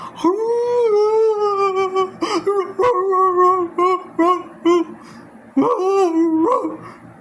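A human voice imitates a dog's crying howl, with drawn-out whining wails that rise and fall in several pulses, close and loud, with brief breaks between cries.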